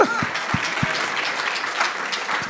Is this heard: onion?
no